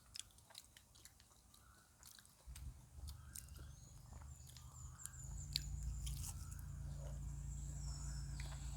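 Someone bites and chews a banana snack outdoors in a garden on a cool morning, with a few crisp bites and steady soft chewing up close over a low background rumble.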